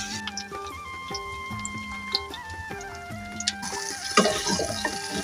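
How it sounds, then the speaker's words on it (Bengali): Soybean chunks fry in hot oil with occasional stirring, giving a close, soft sizzle and scattered pops under background music that grows busier toward the end. "সয়াবিন লাল লাল করে ভাজা হয়ে গেছে"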